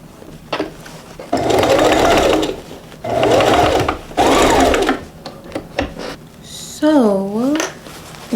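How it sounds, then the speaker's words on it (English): A sewing machine stitches two dress pieces together in three loud, close bursts of rapid whirring, separated by pauses with light handling noises and brief talk. "we're just going to sew the two pieces together"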